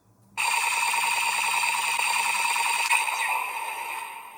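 A Kamen Rider Gavv DX Valenbuster toy gun blasts a loud, continuous electronic rapid-fire sound effect that starts abruptly and runs for several seconds, fading slightly near the end.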